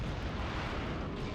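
A grenade explodes in the video game Metal Arms, a dense, loud rumbling blast that fills the whole short stretch without a break, with no voices over it.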